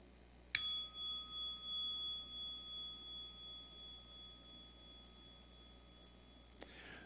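A single meditation bell struck once during a dharma talk, a clear bright ring with a long shimmering decay that hums and fades over several seconds in near silence, then a small tap at the end.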